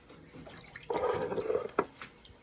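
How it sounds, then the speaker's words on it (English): Water is ladled into canning jars for canned potatoes, giving a brief, soft pouring splash with a few faint drips in a quiet kitchen. "We are just ladling water into"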